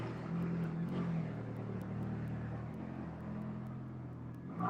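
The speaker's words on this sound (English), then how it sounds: "The car is unnecessary loud." A loud car engine drones steadily close by, its low rumble holding strong throughout with only slight swells and no talking over it.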